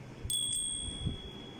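A hand bell rung at a street protest over youth unemployment, its bright ringing strikes starting sharply and repeating briefly over a steady background murmur of outdoor noise.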